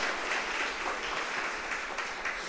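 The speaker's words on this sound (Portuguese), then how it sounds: "Você pode aplaudir ao Senhor?" A church congregation applauds during a sermon, a sustained crowd clapping that holds steady throughout at moderate volume.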